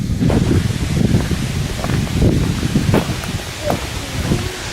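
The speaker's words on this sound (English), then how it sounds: "Wind blowing a little bit." Wind blowing steadily outdoors in the Allegheny National Forest, a continuous broadband rush with gusts that rise and fall, close to the microphone and buffeting it, with leaves rustling in the background.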